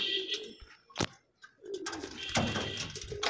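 Pigeons coo softly in short throaty bursts, close by, with flutters and scuffing noises between calls.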